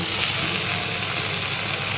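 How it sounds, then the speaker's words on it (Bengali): Chicken pieces fry in hot oil with spiced masala, giving a close, steady sizzle and crackle that holds evenly for a couple of seconds with no voices. "এবার আমি মাংসটা তুলে দেব"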